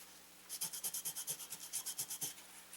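Finish being rubbed by hand onto a wooden wall picture shelf: a steady series of about fourteen quick, even scrubbing strokes, close and fairly quiet, with no voices.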